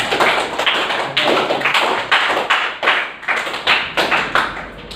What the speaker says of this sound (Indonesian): tepuk tangan untuk Nazar